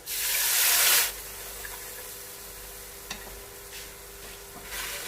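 Onion and spice masala for rajma sizzles in a pan as water is poured in, a loud hissing burst at first that settles into a softer steady fry with faint stirring scrapes.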